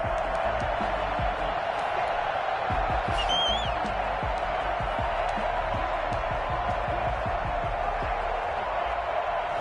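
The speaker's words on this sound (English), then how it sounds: "Crowd getting in it a bit already." A football stadium crowd roars steadily through an early third down in a game between the Rams and their opponent, a dense, loud, unbroken wash of cheering from many voices at a distance.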